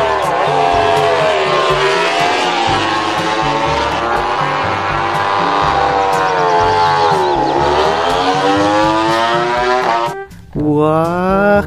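Toy MotoGP racing motorcycle giving off a loud, continuous electronic engine whine that rises and falls in pitch for about ten seconds, then breaks briefly and resumes with a fresh rev.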